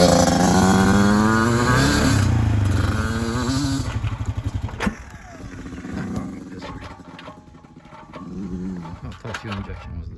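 A 2008 Yamaha YZ85 dirt bike engine revs hard on a track, a loud rising two-stroke whine that drops away after a few seconds, followed by fainter revving in the distance with voices over it.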